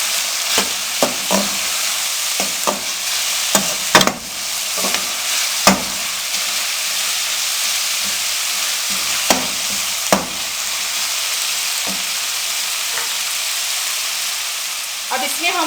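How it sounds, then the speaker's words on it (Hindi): Tomato masala with salt and red chili powder sizzling in a pan while a spoon stirs it, steady frying hiss broken by sharp scraping clicks of the spoon. "अब इनको हम अच्छे से मिक्स कर लेंगे"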